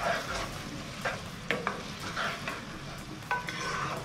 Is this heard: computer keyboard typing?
no